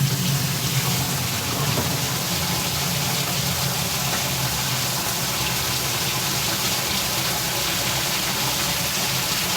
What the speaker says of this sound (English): We're going to have to run some water.